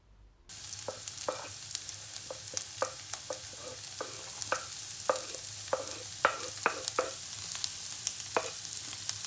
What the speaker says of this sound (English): And put dice of carrot and onion. Fry together a few minutes.